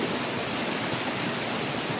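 A flowing river gives a steady, close, full-bodied rush of water, unbroken and even for the whole brief stretch, with no voices.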